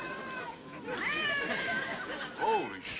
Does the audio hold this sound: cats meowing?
yes